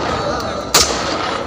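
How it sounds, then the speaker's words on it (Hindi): A single sharp gun salute shot rings out at a state funeral in Wayanad, one loud crack standing out against an outdoor crowd murmur. "राजकीय सम्मान में चलनी थी 10 गोलियां"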